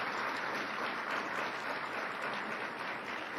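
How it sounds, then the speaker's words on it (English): An audience at a National Adoption Month event gives the honorees a round of applause, a steady, even wash of clapping at moderate volume with no voices over it. "So for all of our honorees, give them all a round of applause."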